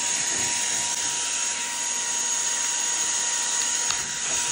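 A Teqqo Powerstick Plus cordless stick vacuum cleaner runs steadily with a high, even motor whine and airy suction hiss, close and constant throughout with no talk.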